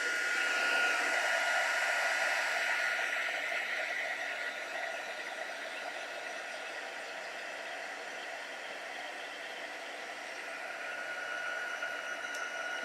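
A heat tool blows hot air to melt Stampin' Up heat and stick powder on white, making a steady, airy, hair-dryer-like hum. It stays moderately quiet and constant throughout, with no talking.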